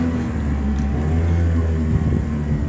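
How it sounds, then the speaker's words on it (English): An outboard motor on a dory, running as a loud, steady low rumble close by with a slight rise in revving, heard alone without talk. "He's trying to start the motor"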